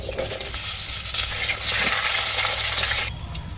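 Potato pieces sizzle in hot oil with bay leaf and chilli tempering, a steady broadband crackle of frying that swells louder midway and eases near the end, with no talk.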